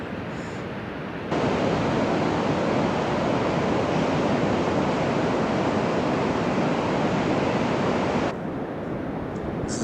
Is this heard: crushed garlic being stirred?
no